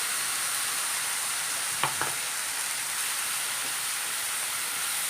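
Ground coconut, ginger and garlic paste for a green peas curry sizzles steadily in a pan, a constant bright hiss with a couple of sharp utensil clicks near the start.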